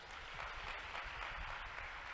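A church congregation claps together at a sermon, a quiet, steady wash of many hands heard at a distance, even in level and continuing throughout.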